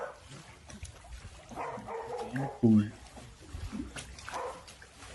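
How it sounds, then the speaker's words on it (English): A dog barks a few times in the middle, fairly close, mixed with a person talking and faint background sounds. "why is your dog barking?"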